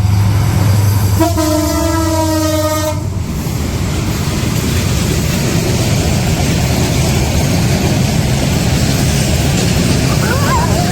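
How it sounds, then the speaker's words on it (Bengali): A train rolls past a village rail line, opening with a loud horn blast, then a steady, close, heavy rumble of wheels and carriages that lasts to the end, with voices talking faintly over it. "রেল লাইন আসতে না আসতে ট্রেন এসে পড়ছে"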